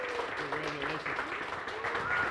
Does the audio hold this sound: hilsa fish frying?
no